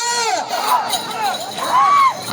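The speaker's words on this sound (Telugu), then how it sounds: "కేకలు కేరింతలు" Crowd at a bull race in Avalampalle village, Anantapur district, with loud shouting and cheering voices rising and falling in pitch, close and continuous throughout.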